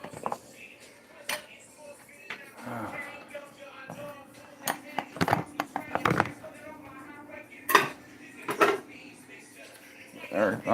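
Dishes, pots and cutlery clatter and knock in a home kitchen while things are readied for washing, with scattered sharp clinks and thuds, some louder bangs, over low background noise and occasional talk.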